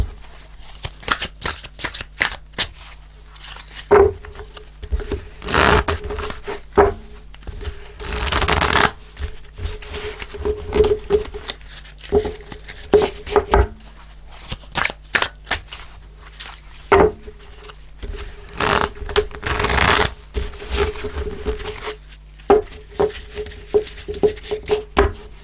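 Tarot cards handled on a table: repeated loud shuffling, sliding and tapping bursts come in irregular clusters, close up, with brief pauses between them and no talking.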